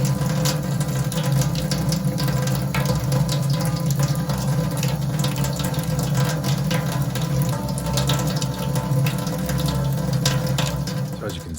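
Water runs from a laundry tap at low pressure, a steady close hiss and splash that continues without a break, with a voice talking over it now and then.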